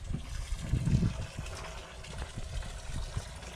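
Rain water splashes and drums against a camera out in a flooded rice paddy during a downpour, a dense, muffled low rumble with a brief heavier gush near the start, then steady close spattering.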